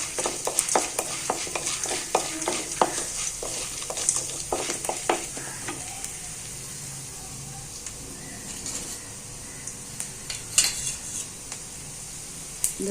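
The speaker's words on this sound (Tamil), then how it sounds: "இது நல்லா வறுபடட்டும்." Curry leaves and spices fry in a pan for a betel leaf, tulsi and karpooravalli kuzhambu. A steady close sizzle runs under frequent scraping clicks of a spoon stirring in the first half, then settles into a quieter hiss with occasional taps.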